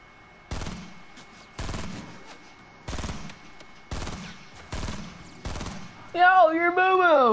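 Video game gunfire comes in six evenly spaced loud bursts of rapid shots, followed by a wavering tone at the end.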